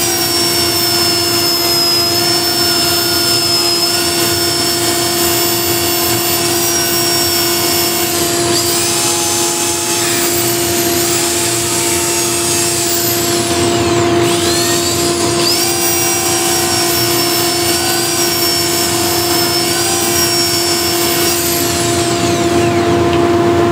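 Steady, loud whine of a power sander working a turned wooden bowl with 180 grit sandpaper, running continuously with slight pitch shifts as pressure changes, no talk.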